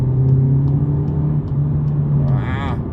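A 2022 Volkswagen Polo GTI accelerates in sport mode, a steady loud engine drone with a low hum heard from inside the cabin, rising slightly in pitch near the end.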